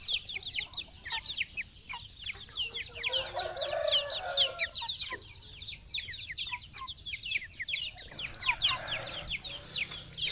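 A busy flock of chickens clucks and chatters continuously, with bursts of excited calls overlapping one another and a rooster crowing among them, heard close up in a farmyard setting.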